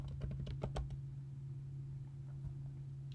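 Fast, light keystrokes on a computer keyboard, a quick burst of clicks up close that thins out into a steady low hum.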